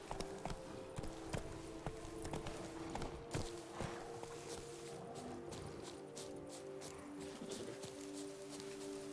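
Steady clip-clop of the horse Roach's hooves in a video game, moving at a walking pace under a busy layer of game ambience and tonal music, with no talk.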